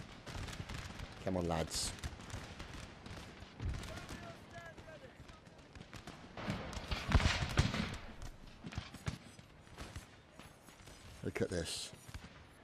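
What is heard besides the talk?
musket volley fire at Waterloo reenactment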